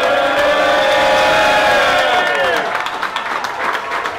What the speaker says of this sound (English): the crowd was going crazy